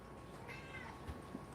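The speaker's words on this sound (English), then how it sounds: "when I said Hafa Adai, she meowed." Pet cat giving a single faint, short meow in a quiet room, soft and brief against low background hiss.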